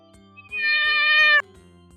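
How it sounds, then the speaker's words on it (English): A kitten gives one long, loud, clear meow lasting just under a second, with soft background noise on either side and no talk. "When a cat meows like this,"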